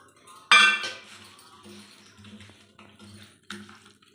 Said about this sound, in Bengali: এই যে এবার আমি এতে নুন হলুদটা মাখিয়ে নিই।